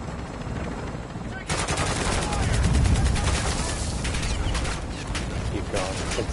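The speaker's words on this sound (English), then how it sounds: "Moving to the chopper." A steady helicopter rotor drone from a Call of Duty mission runs under heavy, continuous gunfire, with rapid machine-gun bursts crackling throughout at close range and loud volume.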